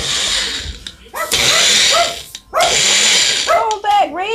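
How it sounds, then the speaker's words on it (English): A dog barks in short repeated bursts near a kitchen blender running for a banana protein smoothie, the barks standing out over the motor noise. "And Reese barking."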